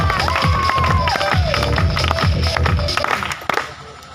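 A crowd at a career opportunity seminar in Saraiswa cheers and shouts with scattered clapping, a loud, busy mass of voices that dies away near the end.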